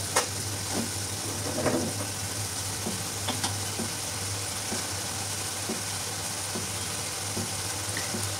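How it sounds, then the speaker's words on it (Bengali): Spice masala sizzles steadily in a hot pan for a Catla fish curry, a continuous hiss with faint scraping stirs and an underlying hum, with no talking. "এখন মশলাটাকে খুব ভালোভাবে কষিয়ে নিব, যাতে করে কোনো আলগা গন্ধ না থাকে।"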